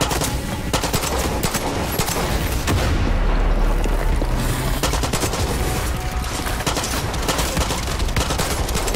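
Constant loud gunfire in the Far Cry 6 video game, rapid overlapping shots and booming blasts filling the whole stretch with no pause, close and aggressive, no talking.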